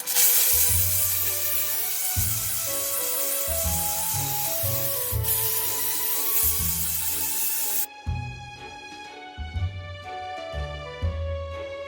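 Dupray steam cleaner working on an AGA oven with steam alone and no cleaning products, a steady close hiss and scrubbing rub that cuts out near the end, leaving lower rhythmic rubbing over a constant background tone.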